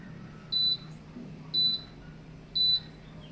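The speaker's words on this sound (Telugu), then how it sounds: "ఆఫ్ అయినప్పుడు మీకు బీప్ సౌండ్ అయితే వినిపిస్తుంది." A Pigeon air fryer gives three identical high-pitched beeps as it switches off, evenly spaced about a second apart, clear over a quiet low hum.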